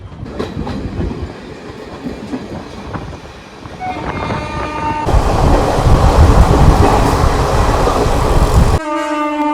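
A Teesta Torsa Express passenger train (13141, Sealdah to New Alipurduar) runs on rails with a steady rolling rumble that swells louder midway, and sustained horn-like tones sound near the end.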